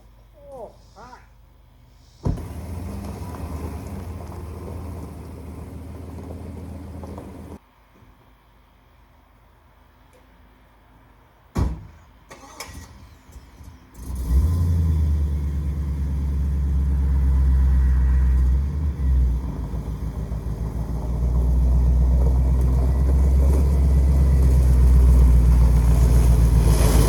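A black truck's engine turns over about halfway through and settles into a loud, close, rumbling idle; before that come quieter clunks and a voice speaking.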